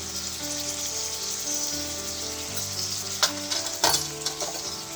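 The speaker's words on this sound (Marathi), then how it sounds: "हे मिश्रण व्यवस्थित ढवळायचं।" A tomato and spice mixture sizzles and fries in a pan while being stirred, a steady close crackle with a few sharper scrapes of the spoon near the end.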